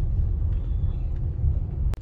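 Cars stuck in a holiday traffic jam in Pattaya, a low, steady engine rumble with the muffled hum of idling vehicles, plus a brief sharp click near the end.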